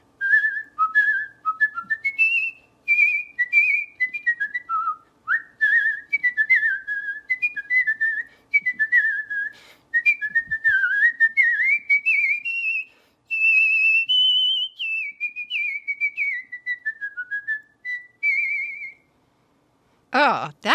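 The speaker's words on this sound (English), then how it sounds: "You can actually whistle big, fancy orchestral things" A lone person whistles a long, ornate orchestral melody in quick phrases with short pauses, notes leaping and trilling over a fairly narrow range, with a brief noise at the end.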